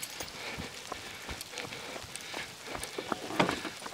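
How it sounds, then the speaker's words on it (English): Rain arrives on an outdoor trail, a steady broadband patter of drops landing on surfaces, with scattered sharper drips that swell toward the end; no one speaks. "here comes the rain"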